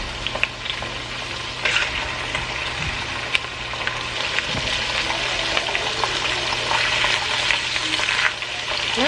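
Cube steak browning in a hot frying pan gives a steady, close sizzle, dotted with sharp pops and spatters throughout, with no talking.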